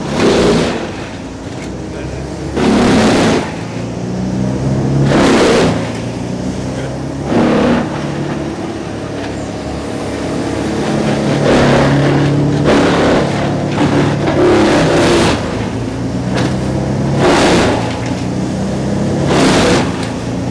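Vermeer wood chippers, including an AX17, AX19 and BC1500, start up and run. Loud engine roar swells and surges repeatedly in waves, with bursts of revving over a steady idle, while people talk nearby.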